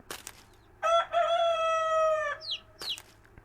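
A rooster in the farming video game Ranch Simulator lets out one loud, drawn-out crow, bracketed by a few short clucks and squawks from the chickens, clear against a quiet background.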